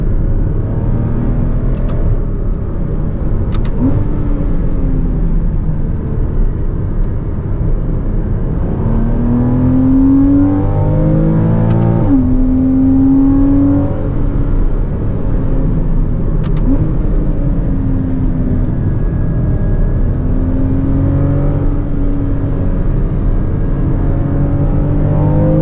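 A 2014 Porsche Cayman base PDK engine revving on a race track, continuous loud close engine drone rising and falling through the gears as the car accelerates, with no talk over it.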